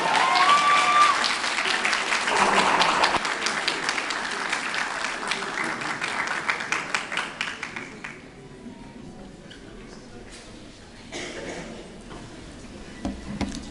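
Audience applause at a high school graduation ceremony, loud dense clapping from a large crowd that fades after about eight seconds into thinner scattered claps, with a brief swell near the end.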